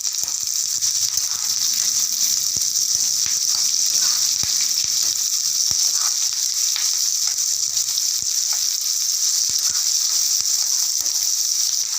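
Green chillies and chopped ginger sizzle hard in hot oil with a steady bright hiss and scattered tiny pops, loud and constant throughout, with no talking.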